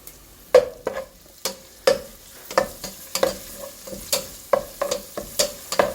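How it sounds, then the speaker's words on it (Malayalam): Ginger and garlic added to hot oil with browned onions for mussel rice, stirred with a spoon that knocks rhythmically against the pan over a soft sizzle, close and clear with no talking. "അതിൽ നമുക്ക് ഇഞ്ചി വെളുത്തുള്ളി ഇട്ട് കൊടുക്കാം."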